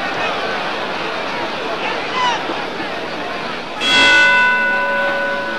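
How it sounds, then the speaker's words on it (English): A boxing ring bell ends the first round of a bout, one clear metallic clang rising above a noisy, murmuring arena crowd and ringing on as it fades. "And there's the bell to end the first round, and Cooper even got a punch in late at the"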